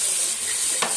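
Onion and tomato sauté in a hot pan for a kofta curry, giving a steady close sizzle with a brief stirring scrape near the end, no talking.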